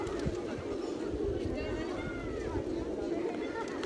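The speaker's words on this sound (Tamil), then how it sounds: "ஃபுல்லாக புறா சவுண்டு நிறையா கேட்குது." Pigeons around Boudha Stupa in Kathmandu coo and flutter amid steady crowd babble and outdoor bustle, the birds mixed into a busy, continuous background.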